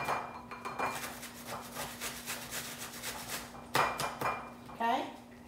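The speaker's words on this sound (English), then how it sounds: "the 4 ounces of red cabbage. I already started grating mine." Red cabbage rubbed against a grater in a home kitchen, a quick run of rhythmic rasping strokes that pauses, then a few more scrapes, with a faint hum and a voice speaking briefly near the end.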